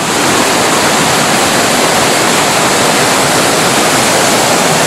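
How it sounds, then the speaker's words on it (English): A Plitvice Lakes waterfall in Croatia pours in a loud, steady, close rush of water, unbroken throughout. "Look at this waterfall business here."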